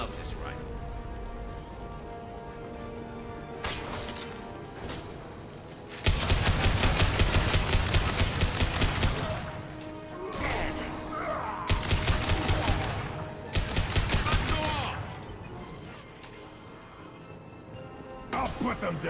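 Rifle gunfire in the video game Mass Effect 2, loud rapid bursts of automatic fire in several long stretches, with game music and effects between them.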